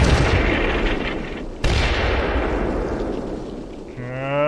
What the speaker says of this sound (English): I'll see all my mortar rounds impacting there, that's nice.